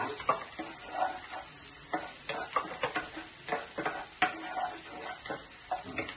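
Ginger pieces, garlic, cumin, fennel, cloves, cinnamon and bay leaf frying in oil for a spinach paneer curry, a soft steady sizzle broken by repeated light scraping stirs and clicks of a spatula against the pan.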